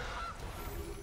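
A goose honk sounds as the Gilded Goose card is played in MTG Arena: a brief nasal call over a busy, noisy game background.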